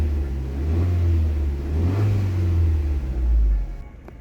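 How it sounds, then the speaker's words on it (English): Alfa Romeo engine, from a Giulietta, GT, 147, GTV or 156 family car, running at a steady low rumble with some revving swells before cutting off abruptly near the end; close and loud, no talk. "And now I'm just gonna start it up, and you can see that the car just started without any issues."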